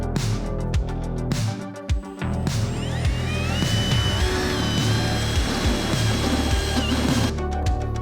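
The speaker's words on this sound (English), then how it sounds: "So now we'll drill this out to a 17/32" A power drill whirs steadily and close, drilling out a hole to 17/32 inch in a Jeep JL Wrangler fender flare install, its pitch shifting as the bit bites in, with brief pauses and clunks at the start.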